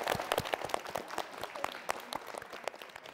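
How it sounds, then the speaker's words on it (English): A small studio audience at a quiz-style contest claps after a contestant's answer. The claps are sparse, distinct and fairly quiet, spread unevenly across a few seconds. "Give a round of applause."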